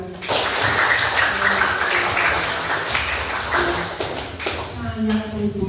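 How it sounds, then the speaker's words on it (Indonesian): Children and a teacher clap their hands together in a classroom religious lesson, a dense, lively burst of clapping lasting several seconds, with a voice talking over it near the end. "Tepuk tangan buat Tuhan"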